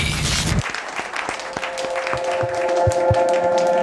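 An audience at a training event applauds: a brief burst of dense clapping gives way to a thin scattering of separate claps from only a few people in a large room.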